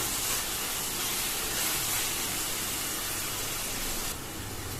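Ginger garlic paste sautéing in a hot pan for pulav rice, a steady broadband sizzle and hiss that holds evenly throughout and eases slightly near the end.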